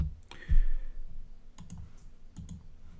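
Computer keyboard typing: a few sharp close clicks and short bursts of keystrokes over a quiet room, no speech.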